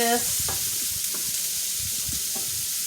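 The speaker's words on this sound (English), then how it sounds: "It's sizzling a little much to suit me, so I'm going to turn it down to medium low." Shrimp crackle and sizzle steadily in a hot frying pan, a constant bright hiss with occasional soft clinks of a utensil.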